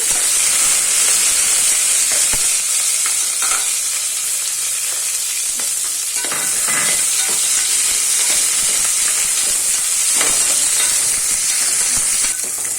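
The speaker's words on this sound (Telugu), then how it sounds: "వేగిన తర్వాత మీరు పక్కన పెట్టుకున్న ఆనియన్స్ వేసుకోండి" Onions frying in hot oil for mushroom biryani: a loud, steady sizzle and hiss throughout, close, with occasional stirring scrapes and no talk.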